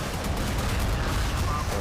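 A dense, continuous barrage of warship gunfire and heavy explosions from the video game Modern Warships, with the RF Varyag cruiser firing; rumbles throughout with no clear gaps between shots.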